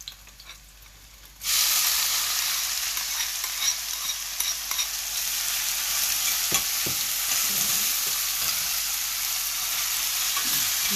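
Cumin seeds frying and burning in a pan start with a sudden loud sizzle after a quiet moment, then hiss steadily with occasional stirring clatter and scraping, and no one speaks.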